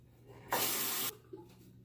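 Tap water runs briefly over a safety razor being rinsed at a sink, a soft hissing spray of about half a second in a quiet room, followed by a faint clink.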